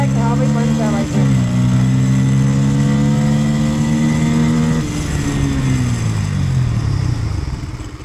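A Bajaj Pulsar N160 motorcycle engine revs loud and close, its pitch climbing through a gear change, pulling steadily, then easing off and falling away near the end.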